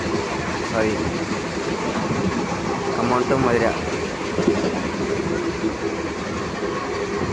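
A train runs on the Khammam to Madhira route, heard from inside as a continuous rumbling roll with clickety-clack rhythm and faint squeals, while crowded passengers chatter in the background.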